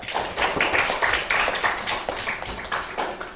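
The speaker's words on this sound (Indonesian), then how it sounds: "tepuk tangan untuk Meca" Classroom applause for a student named Meca, a short spell of many hands clapping close by, steady and fairly loud for a few seconds.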